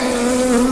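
Honey bees buzz loudly and close during a hive split, forming one continuous steady drone with no break.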